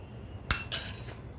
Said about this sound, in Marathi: आता आपण मिक्सरचं भांडं घेऊया त्यामध्ये घालूया काजू बदाम